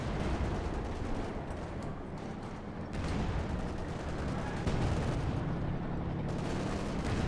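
Tank cannon fire in the Company of Heroes 2 real-time strategy game, a dense wash of battle noise with repeated booming shots and rumbling explosions going on throughout, loud and continuous.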